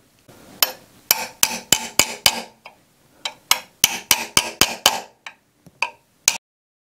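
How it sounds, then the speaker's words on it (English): Rapid bursts of sharp metallic taps from a flat chasing tool hammered on sheet metal resting on a wood block, coming in quick clusters with short pauses, close and crisp with no speech. "come in with the flat chasing tool and flatten that whole area and make that edge nice and sharp"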